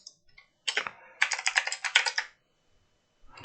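Typing on a computer keyboard, close and alone: a short opening burst, then a rapid run of crisp keystrokes lasting about a second, silence, and a few final taps.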